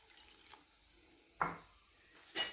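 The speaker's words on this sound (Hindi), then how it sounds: "ये इसको हम पानी डाल के तो इसको तैयार कर लेते हैं।" Water poured into a flour and salt batter to make a slurry for chicken patties, heard as three short, soft splashing bursts spaced about a second apart in a quiet kitchen.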